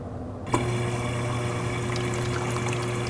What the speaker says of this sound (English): At this point, you should be able to hear and see water filling into the ice tray.